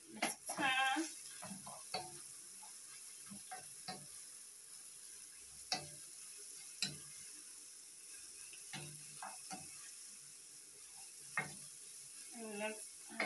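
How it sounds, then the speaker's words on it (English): Shredded cabbage being added gradually to a frying pan and stirred, giving a soft steady sizzle with scattered scraping and clinking of the utensil against the pan, fairly quiet and close. "we add our cabbage. We add gradually, and then stir"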